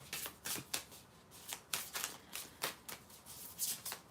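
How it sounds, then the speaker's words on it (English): Tarot cards riffled and shuffled by hand for a zodiac reading: a steady run of crisp, close papery flutters and snaps that repeat about every half second, with no talking over them. "I'm just going to put this in the center while I shuffle"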